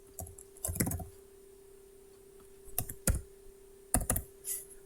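Computer keyboard keys typed in short separated bursts while entering a login password, several quick clusters of clicks with pauses between, close and fairly clear over a faint steady hum.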